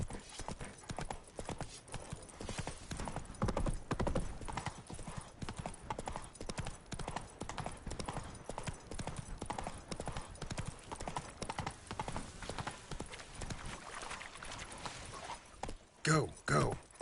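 Hoofbeats of Roach, the horse in the video game The Witcher 3, pound in a steady fast clip-clop throughout, with speech over the galloping and a brief pause near the end.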